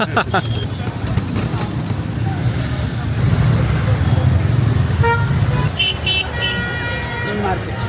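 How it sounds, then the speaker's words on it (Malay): A rickshaw horn honking amid busy Kathmandu street traffic, several short toots standing out over rumbling engines and road noise, with people talking nearby. "Kau dengar dia punya horn memang lawa sang."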